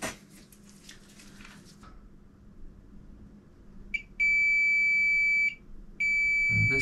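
Multimeter set to diode mode beeps on a shorted line of a liquid-damaged MacBook Pro M1 Pro A2442 14-inch 2021 logic board: two loud, steady electronic tones, the first about a second long, the second following after a short gap.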